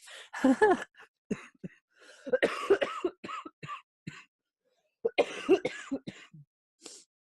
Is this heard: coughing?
yes